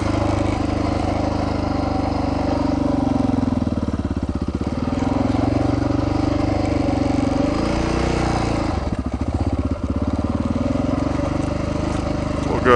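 An ATV engine runs steadily up close on a ridge trail near Meeker, holding a rough, throaty drone that dips and recovers in pitch as the machine works over the terrain.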